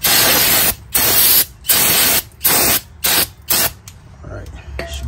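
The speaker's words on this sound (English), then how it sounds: "spray the WD-40, brake cleaner on it" Aerosol brake cleaner sprayed onto a Mitsubishi Eclipse brake hub during rotor and pad replacement, six loud hissing bursts of about half a second each with short pauses between, followed by quieter handling noise.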